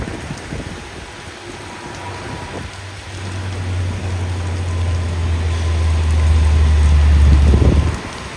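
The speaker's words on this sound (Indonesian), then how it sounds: "Ini hujan semakin deras bosku di Bukit Porok" Heavy rain patters steadily on Bukit Porok, a continuous wash of drops under a deep vehicle engine drone that grows louder, with no one speaking.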